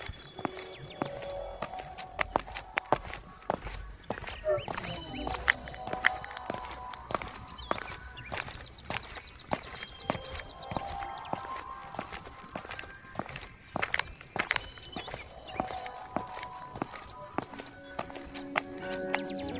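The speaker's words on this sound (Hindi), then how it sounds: "उस शाम वीरान अपने जादुई घोड़े नक्षत्र को नदी किनारे टहना रहा था।" A magic horse walking along a riverside, its hooves clip-clopping in a steady, close walking rhythm for a long stretch, with no voices over the sound.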